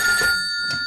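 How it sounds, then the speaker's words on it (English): A telephone rings in one short, bright electronic trill, close and clear, with steady tones and no talking over it. "Oh, it's ringing."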